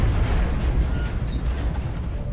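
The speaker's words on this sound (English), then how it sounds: "Grenade out." Grenade blast in the turn-based strategy game XCOM: Enemy Unknown: a loud, close boom with a rumbling tail that lasts about two seconds and is heard alone, without speech.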